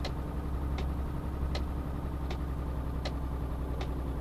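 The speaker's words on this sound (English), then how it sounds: "Very relaxed indicator noise." Turn indicator in a truck cab in Euro Truck Simulator 2, ticking at a steady, unhurried pace with about six soft clicks over a constant low engine drone.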